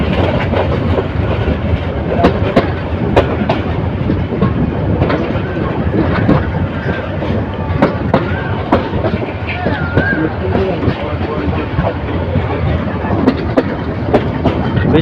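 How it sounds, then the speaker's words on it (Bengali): The Parabat Express passenger train runs on the Dhaka to Sylhet line with a loud, continuous rumble and rhythmic clickety-clack of wheels over rail joints, close and unbroken throughout. "ট্রেনটি এখন সিলেট সেকশনে প্রবেশ করলো"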